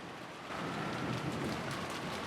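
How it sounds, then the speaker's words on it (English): Heavy rain with strong wind in the visual novel Umineko When They Cry, a dense steady roar of rainfall that swells louder after a brief lighter start, with no voices. "Outside, the rain was incredible and the wind strong."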